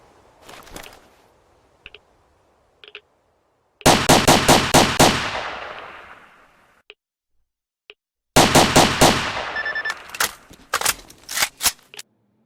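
A turret fires in the video game STALKER in two long, loud rapid bursts of automatic gunfire with ringing tails, set apart by a few short isolated shots and near silence, then trailing into scattered single shots.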